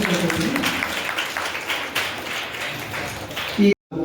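Loud, steady applause fills a crowded hall at a temple celebration, a dense wash of clapping that runs for several seconds before cutting off abruptly near the end.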